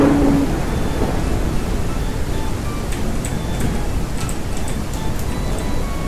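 Rolling thunder in the ranching game Ranch Simulator, a steady loud rumble with rain-like noise that holds throughout, a few faint high ticks scattered over it.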